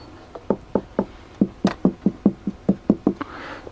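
Hollow wooden telegraph pole knocked by hand, about a dozen sharp resonant wooden knocks in an uneven rhythm, close and clear with no talk.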